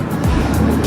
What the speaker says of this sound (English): get that trash truck